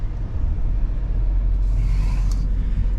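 A vehicle backing up on a driveway after snow clearing gives a steady low engine rumble, with a brief faint higher hiss near the end.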